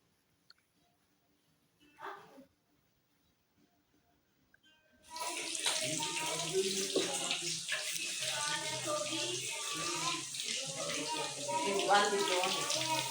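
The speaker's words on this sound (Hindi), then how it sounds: "अब जो है हम जो है फ़िश फ्राई कर रहे हैं" Fish fries in hot oil over a stove turned down low, starting as a sudden steady sizzle and crackle after several near-silent seconds with a few brief sounds, then continuing loud and unbroken.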